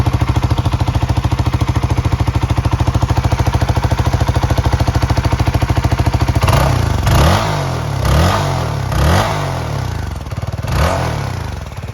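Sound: CF Moto 250 NK motorcycle idling with stock exhaust

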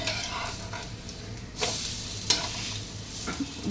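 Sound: tomato omelette frying on a non-stick pan after flipping

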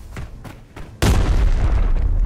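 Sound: decoy grenade going off in Arena Breakout video game

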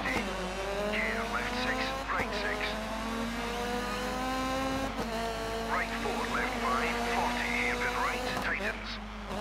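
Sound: Grande Punto rally car racing, video game Dirt 3

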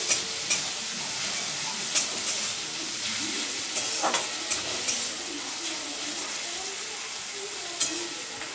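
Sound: garlic and chopped tomato frying in a pan

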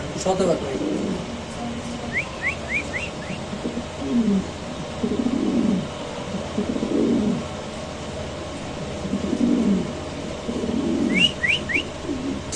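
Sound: male fancy pigeon cooing

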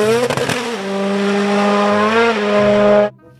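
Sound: toy race car sound

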